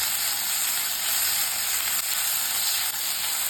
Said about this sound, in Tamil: இஞ்சி பூண்டு பச்சை வாசம் போகிற வரைக்கும் நம்ம வதக்கிக்கலாம்